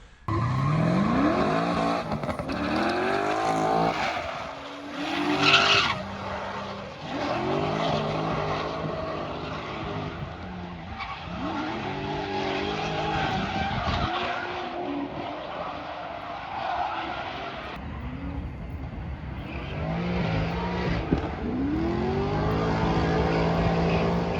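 A loud, revving 7.0-litre V8 engine of a C6 Corvette Z06 roars through repeated rising and falling gear pulls, with tire squeal and skidding mixed into the sustained, close roar.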